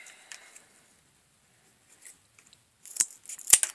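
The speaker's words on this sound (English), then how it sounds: "First thing you're going to do is cut these two down." Pieces are cut down during a build: faint rustling and small handling ticks, then near-silence, then two sharp, crisp snips close by toward the end.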